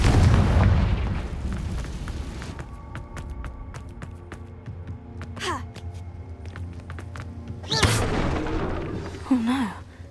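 A Confringo spell blast in Hogwarts Legacy opens loudly with a broad rumbling explosion that decays into a low, echoing tail, followed by scattered clicks and a second sharp burst near the end.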